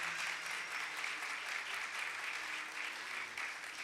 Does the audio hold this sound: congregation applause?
yes